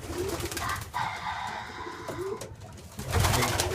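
Racing pigeons, breeding males in a loft, coo in a low steady murmur throughout, with a louder burst of cooing near the end.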